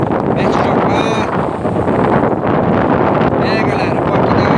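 Strong wind buffets the microphone aboard a lobster fishing boat setting its traps at sea, a loud roaring rush with churning water and brief whistling gusts throughout.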